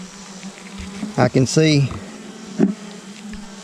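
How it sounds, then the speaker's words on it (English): Honey bees buzz around an open hive during maintenance, a steady low hum under the whole stretch while a person talks close by. "there's bees all the way to the last frame"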